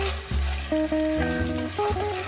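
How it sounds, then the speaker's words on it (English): Pork stir-fries in a wok with soy sauce, oyster sauce and sugar for Sichuan double-cooked pork, giving a continuous hissing sizzle. Background music plays throughout with steady held notes. "Stir fry for a short time."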